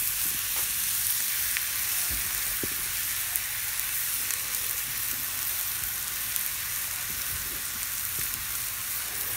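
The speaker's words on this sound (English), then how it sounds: "Now, you may be wondering why I'm searing this in a cast iron skillet." Wagyu London broil searing in a cast iron skillet, a steady, loud, close sizzle that continues without a break, with a few faint clicks and pops and no voices.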